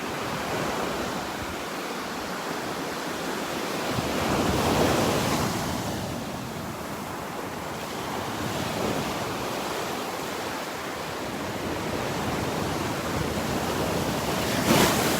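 Steady ocean waves and surf roll in at Delnor-Wiggins beach, a continuous broadband wash with gentle swells in loudness and some wind rumbling across the microphone, no voices present.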